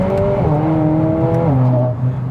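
A Mercedes A45S AMG accelerates hard close up, its engine note climbing loudly and then dropping sharply at each quick gear change, pulling strongly throughout the short burst.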